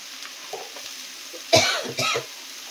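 Coughing fit from pungent spice fumes, likely mustard or poppy seed paste, while cooking in a home kitchen; two short bursts of close coughs over faint background stirring or sizzling.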